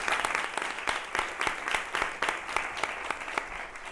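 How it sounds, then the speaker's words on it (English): An audience at a women's leadership panel gives a short round of applause, with dense, fairly close clapping that holds steady and then tapers slightly. "please join me very quickly, a round of applause to everyone"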